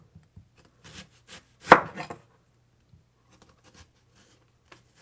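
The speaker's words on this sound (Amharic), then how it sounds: "በዚህ መልኩ እየከተፍኩ እጨርሳለሁ።" A kitchen knife chops onions on a board for an Ethiopian onion tibs dish, giving a few quiet, scattered cuts with one louder, sharper chop near the middle. There is no talking.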